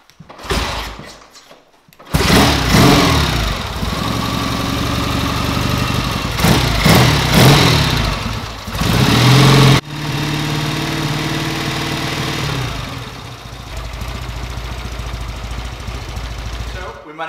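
A 1945 Triumph Speed Twin motorcycle engine is kicked and fires into a loud, steady close-up idle with a brief blip of revs, then keeps running evenly until the end.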